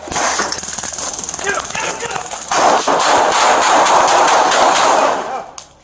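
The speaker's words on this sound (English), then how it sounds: "Shots fired! Shots fired! Shots fired!" Gunfire during a police encounter, caught on a police dashcam: a rapid burst of loud, sharp cracks following a few seconds of noisier background, with voices mixed in.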